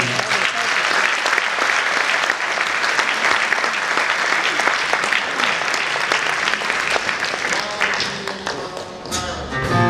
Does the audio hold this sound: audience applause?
yes